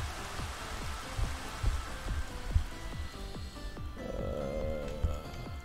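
Steady rain hiss in the video game Minecraft, continuous and fairly close, with a run of soft rhythmic thumps beneath it and a brief warbling tone toward the end.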